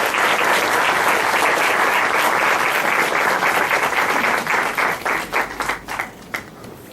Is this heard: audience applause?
yes